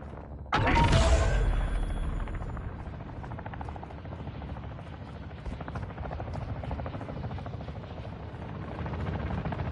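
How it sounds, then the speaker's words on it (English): A hostile UAV drone in a video game hums and buzzes steadily overhead after a sharp burst at the start, with a rhythmic whir that persists to the end. "Hostile UAV overhead. Hostile UAV active."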